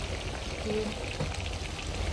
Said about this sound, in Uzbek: Ustidan suv quyib yuborsak.